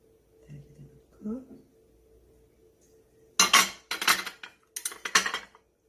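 Frozen raspberries and strawberries drop into yogurt in a dish, a quick cluster of clinking, clattering knocks after a quiet stretch with faint murmured talk.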